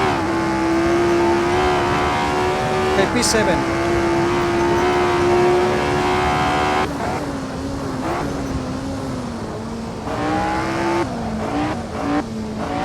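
Race cars lapping a track in Assetto Corsa at the 1967 Teretonga International, Tasman Series, with a steady loud engine drone that shifts pitch through gear changes and tyre squeal, while a voice speaks briefly over it.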